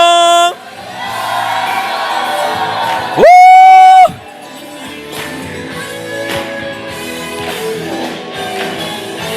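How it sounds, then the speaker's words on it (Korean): A church congregation at a praise-and-testimony worship meeting in New York lets out a loud, sustained roar of shouting and cheering. It follows a brief sung tone and rolls on as a dense wall of voices with scattered whoops. "자, 여러분 한 번 더 온 힘을 다하여 우리 주님 사랑한 만큼 주님께 함성."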